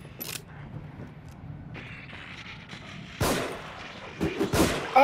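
Gunfire in The Evil Within horror video game, a few sharp shots scattered over several seconds, the loudest two cracking out near the end amid mechanical clicks and rustling.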